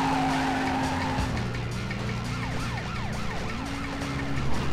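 Cars in a video game driving with an engine drone, repeated tire skids and squeals, and a wailing siren layered over the busy game sound, with no talk.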